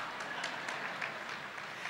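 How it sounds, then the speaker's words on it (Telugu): An audience at a church service claps together, a soft, fairly distant patter of many hands with a few sharper claps rising out of the steady wash, no voices over it. "మీకు మీరు చప్పట్లు కొట్టుకున్న తర్వాత"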